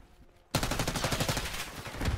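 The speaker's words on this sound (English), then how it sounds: "I just shot the homie." Rapid bursts of video game gunfire erupt after half a second of near silence, a dense automatic rattle that carries loud and steady to the end.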